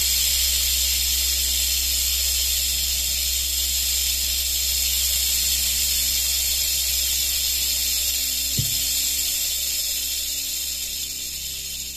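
A venomous snake, a rattlesnake or viper kept indoors, makes a loud, steady, harsh hissing buzz that runs without a break for about twelve seconds, with one soft knock near the end.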